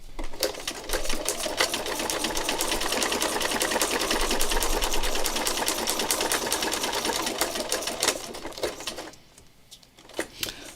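Sewing machine running steadily, stitching with King Tut variegated thread while quilting, a fast even rattle held close and loud for most of the span, then slowing and stopping near the end.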